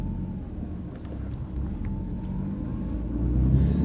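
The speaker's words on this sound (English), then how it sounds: "we'll go over the bump kind of slow. It's a heavy bump." A classic Mustang with a fast V6 rolls slowly over a heavy road bump. The engine rumbles low and continuously from inside the car and swells slightly toward the end.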